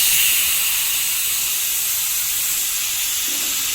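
A pressure cooker steaming seasoned rice gives off a loud, continuous high hiss of escaping steam, close and steady throughout.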